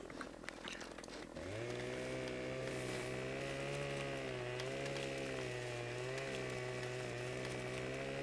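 A chainsaw in the video game Farming Simulator 2015 starts up after about a second and then runs as a loud, steady, buzzing engine drone, with slight dips and rises in pitch.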